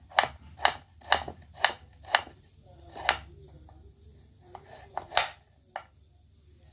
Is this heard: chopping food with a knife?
yes